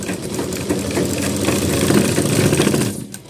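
Sewing machine stitching along a coat shoulder seam, sewn with about a one-foot margin, running steadily and close for the whole stretch with a continuous mechanical whirr.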